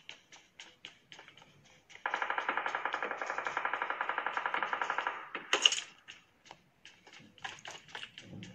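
Rapid automatic gunfire in a mobile shooter game played on a Xiaomi Mi 10T at 90 fps, a sustained three-second burst of evenly spaced shots framed by scattered single clicks and taps, with no talking.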